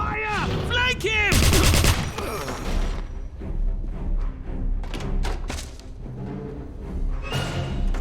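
Gunfire rattles in the video game Wolfenstein (2009), rapid machine-gun bursts and single shots in dense, loud volleys mixed with game sound and shouting voices.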